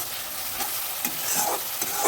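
Spices frying in a pan for a restaurant-style mixed vegetable curry sizzle steadily as tomato paste goes in, with a few scraping stirs of a spoon, close and continuous.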